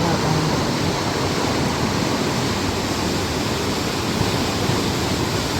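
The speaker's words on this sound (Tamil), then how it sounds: "இப்போ பார்த்தா தண்ணி வெளியே கொண்டு இருக்கிறது." Water rushes out of a canal lock on the Wey and Godalming Navigation near the Thames, a loud, steady, unbroken roar with no voices.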